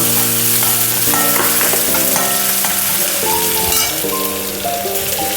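Ginger, onion and green chilli sizzle steadily in hot coconut oil for a bitter gourd fish-style curry, a dense continuous crackle close up with occasional stirring scrapes and no talk.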